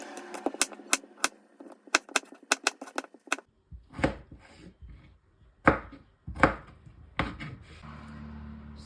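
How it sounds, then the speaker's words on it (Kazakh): A knife chops potatoes on a board in quick, sharp strokes, first in a fast burst and then in slower, heavier cuts, close and clear. "Бірінші картошканы алып, турап аламыз."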